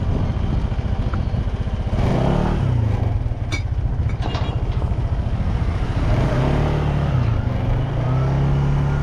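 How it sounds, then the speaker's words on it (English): A motorbike passes outside, its engine droning loud and close with a rising and falling pitch sweep, amid clattering noises and a brief exclamation. "Motorbike"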